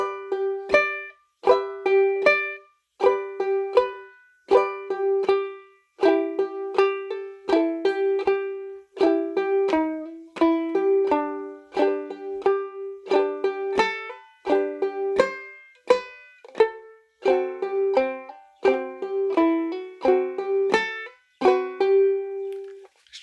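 A clawhammer ukulele plays a solo of the folk song Bury Me Beneath the Willow alone. Steady strummed and plucked notes ring close and clear in a lively, even rhythm throughout.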